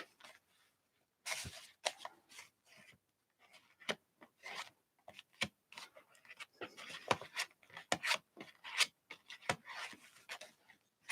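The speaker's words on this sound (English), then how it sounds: "palette knife to do the gluing here" A palette knife scrapes and spreads glue across the pages of a bank book art journal, giving soft intermittent close-up scraping and tapping strokes in an otherwise quiet room.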